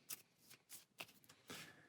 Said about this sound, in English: And level 1 is shuffled somewhere in this stack of cards.